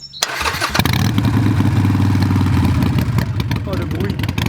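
A Kawasaki D-Tracker 125 motorcycle engine cranks and catches after a short pause, then settles into a loud, close, uneven idle with small revs.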